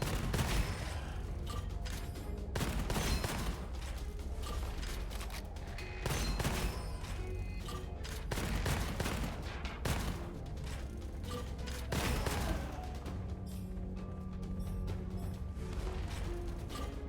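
Rapid gunfire in the shooter Gunfire Reborn, dense bursts of sharp shots in quick succession with short pauses between volleys, loud and continuous throughout with no speech.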